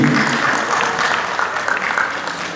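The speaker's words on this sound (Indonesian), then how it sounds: "kita kasih aplaus luar biasa tunjukan hari ini" An audience applauds after a theatre performance, steady dense clapping filling the room without a break.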